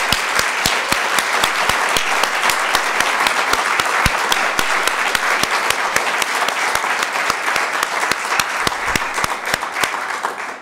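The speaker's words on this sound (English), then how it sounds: "can we give a resounding round of applause for our amazing social workers?" Audience applause for social workers at a research launch event, a dense sustained round of clapping from a crowd that carries steadily for about ten seconds before easing slightly at the end.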